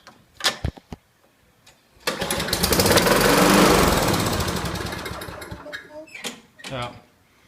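A Toro GTS lawn mower engine coughs a few times, then catches and runs loudly for several seconds before sputtering out, with a few more brief pops afterward.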